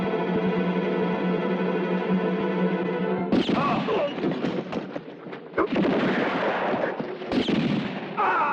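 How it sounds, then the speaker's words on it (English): Gunfire in an Italian western film: a sustained droning tone gives way to a chaotic stretch of repeated loud shots and crashes, fairly close and dense, with no speech over it. "What's all that shooting, Freeman?"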